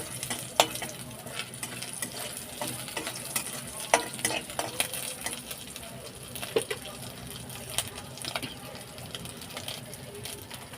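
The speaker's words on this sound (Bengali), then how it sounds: "মিডিয়াম ফ্লেমে এক মিনিট নাড়াচাড়া করে ভেজে নেব" Steady sizzling of poppy seed dumplings frying in mustard oil in a wok over a medium flame, broken by frequent scraping and stirring clatters, with no talking.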